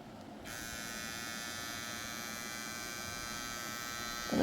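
Bill Pro BL22 electric hair clipper, 5 watts, switching on and running with a steady, close, high-pitched motor buzz that holds evenly to the end.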